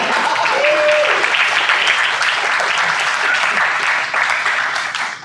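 Sustained applause from a film festival audience at a South Asian film event, dense and steady throughout with a faint brief tone near the start, tapering slightly at the end.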